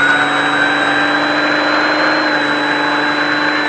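An off-road vehicle engine at SpeedVegas under acceleration, a loud steady whining drone with sustained tonal harmonics holding level throughout, with no talk over it.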